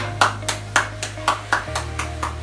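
Eight or so hand claps in a slow, even rhythm, moderately close and alone, from an audience at a morning school guidance session.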